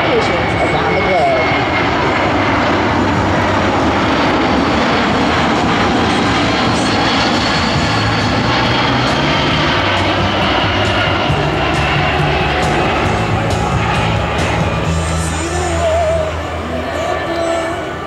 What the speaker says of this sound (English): This versatile aircraft is used for many types of missions around the world